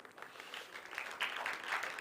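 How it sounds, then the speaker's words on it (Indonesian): A church congregation claps together, a faint, distant patter of hands swelling slightly and holding steady for a couple of seconds. "Kita beri tepuk tangan"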